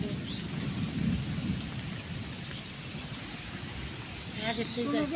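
Heavy storm rain with thunder pours down by a mango tree, a steady loud wash of rain that continues throughout with a deeper rumble near the start and voices faintly mixed in.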